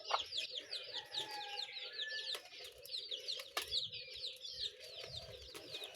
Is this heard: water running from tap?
no